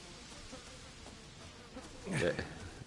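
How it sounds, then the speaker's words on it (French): Flies buzz in a Resident Evil 7 VR horror game scene at a campers' toilet spot, a quiet low drone swelling into a louder, close buzzing pass near the end. "Ce qui explique les mouches d'ailleurs."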